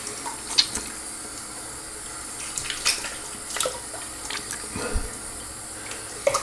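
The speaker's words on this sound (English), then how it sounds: "Let's go ahead and rinse." A 3D-printed double-edge safety razor is rinsed under a running tap, with splashing water and several sharp taps and knocks against the sink at close range. A steady flow runs beneath the intermittent clatter.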